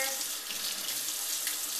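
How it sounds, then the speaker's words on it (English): Hot tap water runs steadily and splashes onto a hollow plastic tray nearby, a constant hissing stream with no speech. "run it under hot water"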